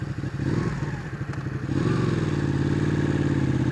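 A Ducati 899 Panigale motorcycle pulls away in gear on a city street, its engine note rising steadily and loud and close, with brief clatter at the start and no talking.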